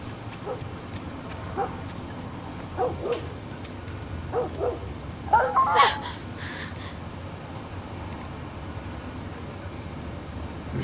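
A dog in the video game The Last of Us gives scattered yips and barks, then a brief cluster of whimpering cries midway, moderately faint against a steady ambient background hum.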